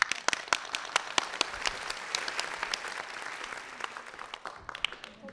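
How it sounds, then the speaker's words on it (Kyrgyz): A studio audience claps on a televised intellectual quiz show, dense continuous applause with sharp individual claps, loud and close, fading slightly toward the end. "Кол чаап коюңуздар"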